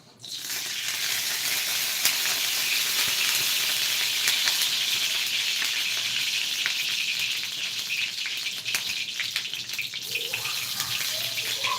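Onions sizzle steadily in a hot pan, a dense, loud crackling hiss that holds evenly throughout with small pops and scrapes, no voices.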